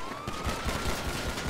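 Rapid gunshots in GTA 5 crackle in a brisk, dense burst of overlapping pops, moderately loud and close.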